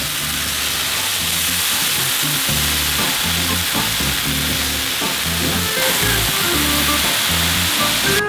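Thick-cut bacon sizzles loudly and steadily on a hot grill, a dense continuous frying hiss heard up close with no talking.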